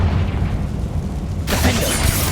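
A fiery Confringo spell bursts in a dark mine in Hogwarts Legacy, a sudden broadband blast cutting in about halfway through and roaring on, loud and close, after a low rumbling lull.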